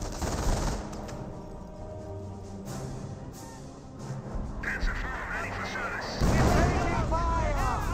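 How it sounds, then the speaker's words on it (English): Howitzer shells landing amid a Company of Heroes World War II battle, muffled booms scattered through a dense wash of gunfire and combat noise, with a louder cluster of impacts near the end under steady battle din. "Good hits there by the howitzer."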